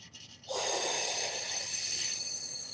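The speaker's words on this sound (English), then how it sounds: "you can hear I'm audibly breathing out" A long, audible breath out rushes through the nose and mouth close by, sustained and airy, fading gradually.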